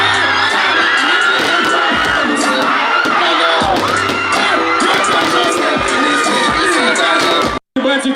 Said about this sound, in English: Fans cheered, danced and sang along as Ghana's top artists took the stage.